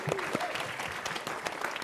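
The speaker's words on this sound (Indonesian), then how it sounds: "beri tepuk tangan untuk Setiawan Tiada Tara" A televised stand-up comedy battle audience breaks into applause as a comedian is introduced, a brief, fairly soft wash of many clapping hands.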